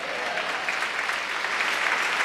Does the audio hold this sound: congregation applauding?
yes